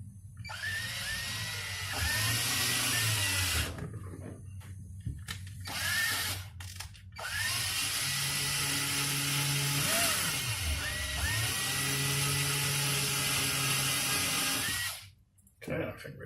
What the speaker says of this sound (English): Got a drill here.